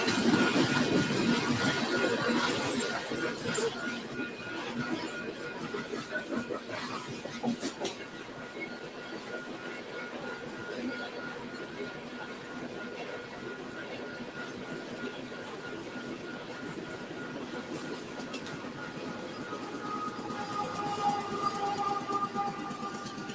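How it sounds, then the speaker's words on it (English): An eastbound Union Pacific coal train curves into the Marysville subdivision at Gibbon, heard from a distance on a triple-track mainline as a steady, low rumble of rolling wagons with faint metallic squeals and a distant horn-like tone rising near the end. "we see this eastbound coal train curving into the Marysville subdivision off in the distance"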